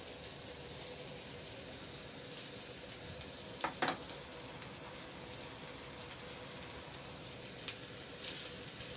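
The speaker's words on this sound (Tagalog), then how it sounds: "Isunod naman natin yung ham na ginawa kong cubes." Garlic and cubed ham sautéing in a pan for fried rice, a steady close sizzle with a few sharp scrapes and clinks of a stirring utensil, no speech.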